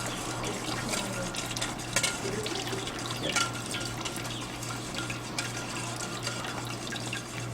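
Melted wax, olive oil and hot water being mixed, a continuous watery swishing and sloshing at moderate volume, close by and uninterrupted by speech.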